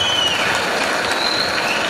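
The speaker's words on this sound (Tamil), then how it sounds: "உங்களுக்கு ஒரு மிகப்பெரிய கரகோஷத்தோட மற்றவங்க வெல்கம் பண்றோம்" An audience claps to welcome members at a company gathering, a short burst of steady, fairly loud applause lasting about two seconds.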